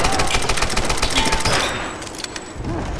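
Rapid gunfire bursts from a Tomb Raider video game firefight, dense overlapping shots that are loud and close, thinning out slightly toward the end with a few distinct cracks.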